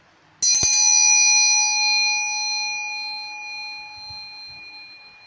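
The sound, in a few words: bell ringing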